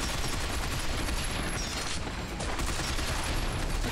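Binary Domain gunfire rattling in a dense, continuous barrage, loud and busy with overlapping shots and mechanical clatter, a steady wall of combat noise without pauses.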